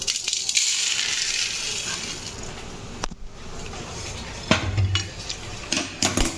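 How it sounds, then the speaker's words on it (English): Roasted urad and chana dal scraped and tipped from a pan onto a plate, giving close scraping and clattering of metal on cookware with a few sharp knocks and rattles near the end. "Now the dal become golden brown. Now I am transferring to the plate."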